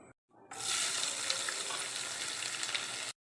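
Chopped onions hit hot oil in a pan where garam masala was roasting for parotta sherva, bursting into a loud, steady sizzle after a brief silent pause and holding bright and close to the end.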